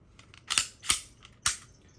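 Sharp metallic clacks of a Smith & Wesson M&P 5.7 pistol as a magazine is slammed home and the action is worked, three loud close impacts with softer clicks between, no talking.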